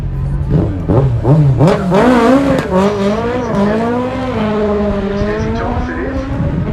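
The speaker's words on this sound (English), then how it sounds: "Now this is an actual Aussie racing car. It's got the Holden Cruise bodywork on it." An Australian hill climb racing car with Holden Cruze bodywork, its engine loud and close, revving in repeated rising and falling surges that settle into a steadier, sustained drone.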